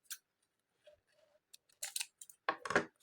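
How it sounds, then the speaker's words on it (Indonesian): Scissors snip through leftover yarn from a crocheted granny-square mini purse and keychain, giving a few short, crisp clicks and cuts close up, with no talk. "Oke, ini kita gunting."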